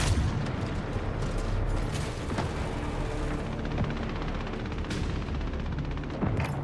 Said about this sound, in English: Land Raider is opening fire because it doesn't care about the Imperial Guardsmen